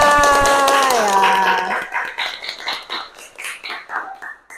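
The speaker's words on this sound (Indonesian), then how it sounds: "Sekali lagi beri tepuk tangan untuk kita semua." A small group claps after a classroom presentation. The clapping starts loud under a fading sustained tone, then breaks into a few uneven, separated bursts.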